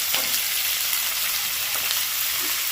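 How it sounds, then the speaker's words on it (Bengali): Chopped onions, two large ones, frying in a pan with a steady, close, dense sizzle and a few faint clicks of stirring, no voices. "এবার এতে ভেজে নেবো একটু ভালো করে পেঁয়াজটা একটু ভালো করে ভেজে নিয়েছি"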